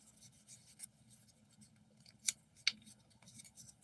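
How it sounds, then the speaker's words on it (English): Paper being folded and creased by hand in a quiet room, soft rustles and scrapes with two sharper crisp creases standing out, close and gentle. "listen to my paper folding ASMR"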